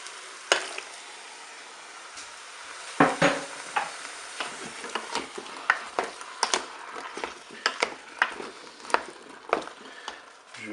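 Courgettes and peeled tomatoes tumble into a pot of sizzling pork chops, giving a steady background sizzle broken by irregular clacks and taps of stirring against the pot, close and moderately quiet.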